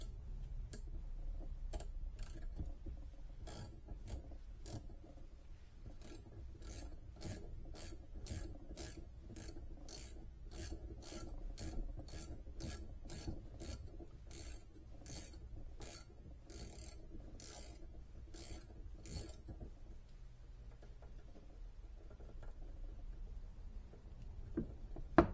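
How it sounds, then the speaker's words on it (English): A 3/8 socket wrench with a half-inch socket ratchets while loosening a bolt on a Harley Dyna Low Rider kickstand, giving a long run of faint, evenly spaced clicks against a quiet hum. "so I just have a half inch on a 3/8 socket wrench. I'm just going to loosen this bolt up."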